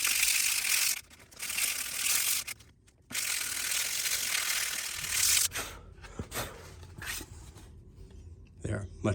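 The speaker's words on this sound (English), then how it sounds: "just hit it with some sandpaper. This is just some rough 40 grit sandpaper I have." Rough 40 grit sandpaper scrubs a wet homemade knob in rapid gritty rasping bursts, close and fairly loud, broken by short pauses and a few clicks toward the end.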